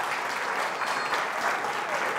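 Audience applause for Gerhard Eckelberger at a gathering honoring a publisher, a steady dense clapping from a large crowd that continues evenly throughout.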